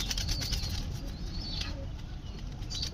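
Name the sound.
pigeons cooing and flapping wings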